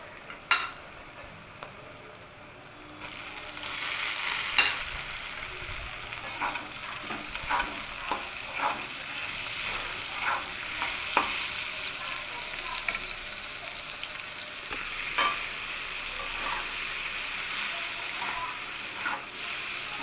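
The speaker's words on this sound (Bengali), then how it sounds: "এবার আমি এটাকে এইভাবেই নাড়তে থাকবো নাড়তে নাড়তে এর যখন জলটা শুকিয়ে আসবে এটা ভাজা ভাজা হয়ে যাবে" Boiled ghetkochu stems and jackfruit seeds sizzle steadily in a pan while a spoon scrapes and stirs them in irregular strokes, with frequent clinks throughout.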